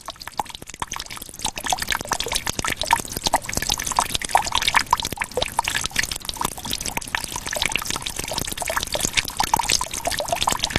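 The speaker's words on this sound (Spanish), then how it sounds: "gotas que resbalan por la piedra y que al caer suenan como una melodía" Water drips and trickles continuously onto rock in quick, irregular splashes, a busy patter of drops falling close by in a forest with no voices.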